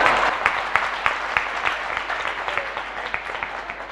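A seated audience at a Jain pravachan breaks into brisk clapping during the sermon, a dense burst of applause that gradually thins and fades over a few seconds.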